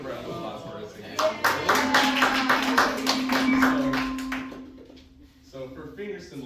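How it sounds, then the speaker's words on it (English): Audience in a music education class breaks into applause after a short pause, a burst of many hands clapping for a few seconds that then fades, with a sustained tone beneath and speech resuming at the end. "Let's give a round of applause for us again."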